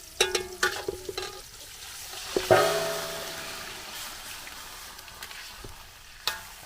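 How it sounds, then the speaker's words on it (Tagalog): Marinated pork leg dropped into a pan of cooking onions at an outdoor farm cooking spot, with a few clanks and a thump followed by a steady, soft sizzle of frying. "pagluto na yung sibuyas, uhulog po yung narinate na pata"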